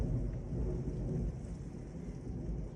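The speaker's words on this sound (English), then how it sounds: "Further down the window is getting the rain a lot more than on this side of the window." Thunderstorm rain in Lubbock drums against a window as a dense, constant wash of noise with a heavy low rumble underneath, continuous and fairly close, with no voices.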